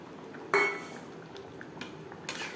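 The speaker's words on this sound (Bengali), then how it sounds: "3-4 মিনিট রান্না করে নেওয়ার পর দিয়ে দেবো ভেজে রাখা পনির" Fried paneer goes into a pan of simmering curry with vegetables, marked by a sharp metallic clink of a spoon on the pan, followed by softer scrapes and a second clatter over a quiet bubbling background.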